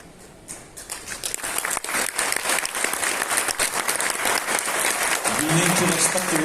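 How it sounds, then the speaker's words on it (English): Audience applause at a DXN direct-selling talk, swelling from scattered claps into a dense, sustained round with crowd noise, and a voice speaking faintly near the end. "So give a round of applause to all the women sitting here today."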